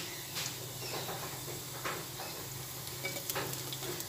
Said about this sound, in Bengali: এখানে একটা কাঁচা লঙ্কা দিয়ে দিচ্ছি।